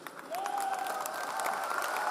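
An audience claps steadily at a motivational speech event for a wellness company, with dense applause building after a brief quiet start and holding evenly, joined by a sustained tone.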